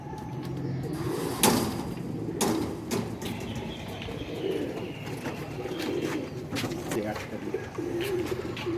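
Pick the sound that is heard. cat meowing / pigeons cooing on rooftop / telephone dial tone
pigeons cooing on rooftop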